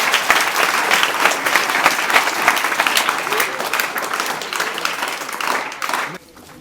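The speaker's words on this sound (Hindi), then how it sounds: "एक जोरदार ताली सभी के लिए।" Dense, loud applause from an audience at a 2025 award ceremony honouring top students fills the stretch, sustained clapping that thins out and stops near the end.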